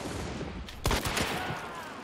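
A gunshot in Hunt: Showdown, a player's headshot, fires as a sharp loud crack over a busy, noisy game mix, followed by a few fainter echoing reports.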